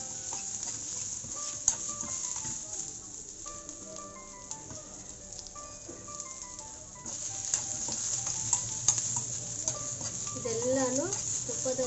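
Ingredients stirred and fried in ghee in a pan for a festive Ugadi dish, a steady sizzle with occasional scraping stir strokes, fairly close, with background music running throughout.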